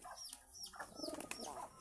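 Pigeons scuffling in a crowded space, with fluttering wings and short agitated coos and calls close by, busy and overlapping for about two seconds.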